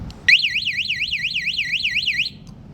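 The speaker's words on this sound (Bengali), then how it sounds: "আর সাইরেনটা" A motorcycle security lock alarm sounds its siren: a loud, rapidly warbling electronic tone that rises and falls steadily for about two seconds, then cuts off, with faint background noise.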